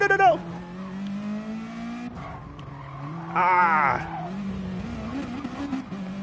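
BTCC touring cars racing in a video game, engines droning and shifting pitch as they accelerate, with a burst of tyre squeal partway through, under a commentator's voice.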